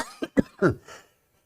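Three or four quick, harsh coughs close to the microphone, one after another, then silence.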